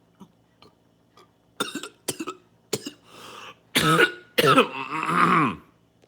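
A few small clicks give way to a string of raspy throat clearings and coughs, growing louder and longer toward the end.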